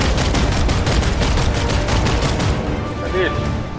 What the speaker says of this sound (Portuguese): Aí, tô dando tiro aqui.